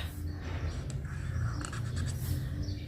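A pen moves across paper in short scratchy strokes while lottery-style numbers are jotted down, quiet and close, over a low background hum.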